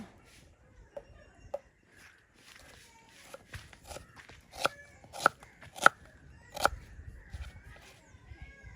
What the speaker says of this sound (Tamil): இந்த சம்பளுக்கு வந்து வெங்காயத்தை வெட்டுவோம்